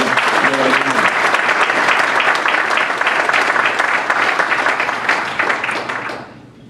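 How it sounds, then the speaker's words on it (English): Loud, sustained applause from a crowd at a fraternity chartering ceremony, steady clapping that carries on for several seconds before fading out at the end. "let's give our students a round of applause"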